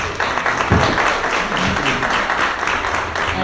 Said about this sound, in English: another round of applause for Monty and all of the great information